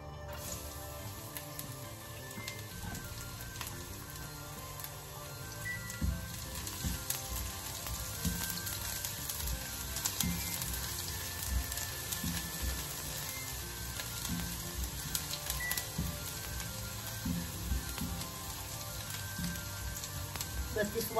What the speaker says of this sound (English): We'll put oil first. Now, guys, let's put the garlic.